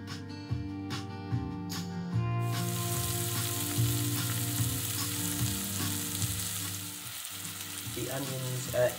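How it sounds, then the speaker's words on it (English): Onions sizzle and fry in a pan for pinto bean chilli, a steady crackling hiss close by with faint stirring and a brief clatter of cookware near the end. "Onions are in, cooking away"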